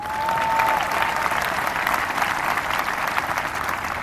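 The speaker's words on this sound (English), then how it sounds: "You can clap for that." Audience at a 2018 high school commencement breaks into loud, sustained applause, a dense crowd of clapping hands that holds steady for several seconds.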